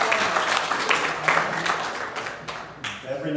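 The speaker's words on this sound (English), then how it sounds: "Round of applause" A gathering's audience gives a round of applause after remarks about official scoring for the Royals, a moderate burst of many hands clapping that thins toward the end, with voices talking over it.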